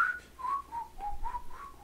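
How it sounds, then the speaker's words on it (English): A person whistles a short wavering tune, a series of clear sliding notes rising and falling in a relaxed rhythm, close and fairly quiet, with no talking over it. "What are you trying to whistle?"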